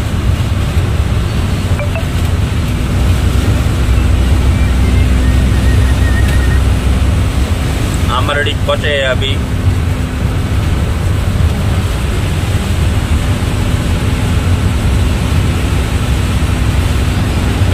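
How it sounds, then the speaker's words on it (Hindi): Storm wind in Kutch buffeting a moving car, a loud constant roar and rumble throughout, with a brief voice speaking partway through. "कच्छ में तूफान है और जा रहा है तूफान।"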